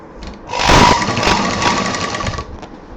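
Sewing machine running steadily for about two seconds as it stitches a pink strip on a handmade handbag, a close, even mechanical whir with a faint hum.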